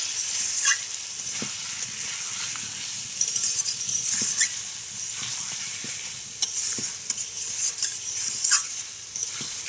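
Spice paste with turmeric and salt fries in a pan, giving a loud steady sizzle close up, broken by occasional spoon scrapes and taps as it is stirred, with no talk.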